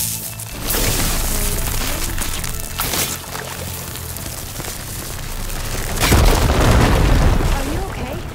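A fire gleam explosion in Horizon Forbidden West sets off loud booming blasts and crackling rumble, with a heavy burst near the end, while a voice talks over part of it.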